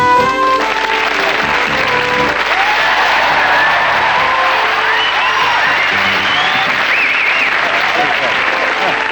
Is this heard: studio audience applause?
yes